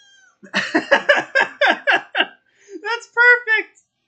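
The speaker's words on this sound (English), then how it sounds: "So, yeah, this is Leslie the kitty." A young kitten meows repeatedly in a quick run of short, rising cries, then a few longer, tonal mews after a brief pause, close and fairly loud with no talk over it.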